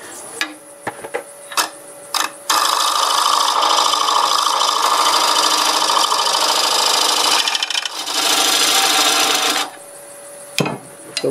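Black locust spinning on a wood lathe as a 5/8 gouge cuts, a harsh sustained rasping scrape lasting several seconds, then a brief dip and a second burst, with short tapping knocks before and after.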